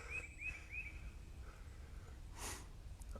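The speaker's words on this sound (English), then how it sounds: "chorus of birds in here." A bird gives three quick rising chirps, faint and distant, followed by a soft rustle in a quiet outdoor setting.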